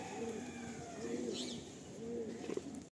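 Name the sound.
Kolkata old line Giribaj female pigeon cooing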